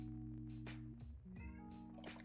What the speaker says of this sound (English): cat, you've been meowing the whole way through my video